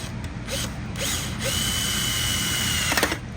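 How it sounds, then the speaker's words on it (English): A power drill whirs steadily at close range, drilling a hole on a car, with ratcheting, grinding bursts as an oversized bit bites and a brief rattling near the end. "Oh, we should have started with a smaller drill bit."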